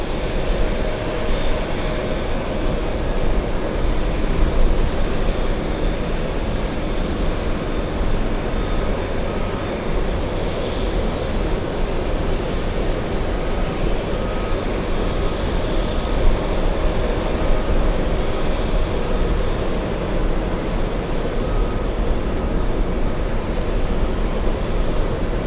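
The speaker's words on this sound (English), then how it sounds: "Let's go for the A330 touching down." Airbus A330 airliner touching down at JFK, a steady broad jet roar that holds level throughout, heard from a distance with no voices.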